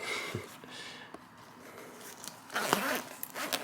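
A zipper runs on a toiletries-style travel bag with two zippers, holding a neurostimulation device being unboxed, making brief close rasping pulls with a quieter pause between them.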